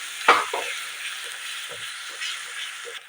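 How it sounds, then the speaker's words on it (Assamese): Onion, tomato, ginger and garlic paste with spices fries in a pan for a dhaba-style matar paneer, a soft continuous sizzle broken by a sharp opening clatter and light scraping stirs of a spoon. "এইখিনি মই ভালদৰে ইয়াতে ভাজি লওঁ।"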